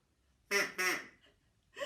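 A voice imitates a duck, giving two close quacks as Mummy Duck, then a third after a short pause, near and clear against silence.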